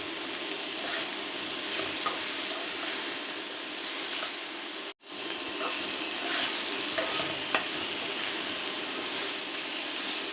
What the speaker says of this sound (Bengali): সামান্য তেল দিয়ে ভাজিটা করছি